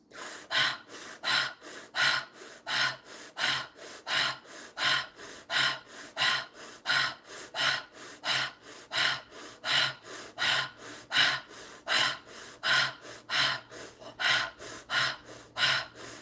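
Rapid, forceful breathing in a guided breathing exercise, about two breaths per second with sharp gasping inhales and outward puffs, repeated steadily and loud, close to the microphone.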